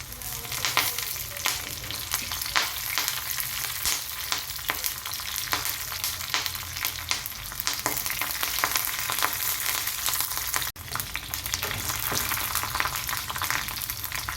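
Curry leaves and green chillies fry in hot oil in a Telangana kitchen, a steady dense sizzle with crackling pops running throughout, close and loud, with a brief dip near the end and no voices.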